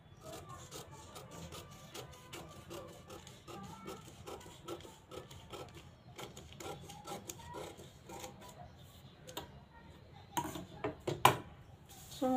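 Scissors cut blouse fabric up close in a quick run of crisp snips, with soft rustling of cloth in between and occasional quiet talk.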